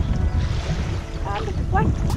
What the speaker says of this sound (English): Shitty winds! Shitty winds! It's so cold!